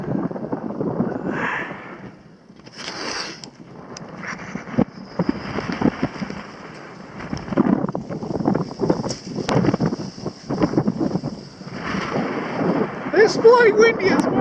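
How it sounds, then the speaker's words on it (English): Gusty wind blows across an open nature reserve at Tennenlohe on a freezing day, buffeting the microphone in uneven rushes and lulls, with occasional sharper knocks and faint high calls in the background. "It's blowing windy as well."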